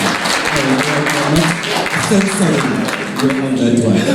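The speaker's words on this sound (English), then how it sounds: "You can clap hands after they're finished" Audience clapping at a South African political party debate, a steady wash of many hands applauding under and between voices, fairly loud and close throughout.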